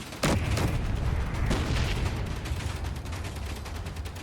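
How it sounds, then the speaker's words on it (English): A gun turret fires in a vehicular combat game with armed RVs, opening with a loud blast followed by a second burst, then continuing rumbling gunfire and explosions as dense, sustained battle noise with no talking. "It's that turret I'm trying to deal with that's doing the damage there."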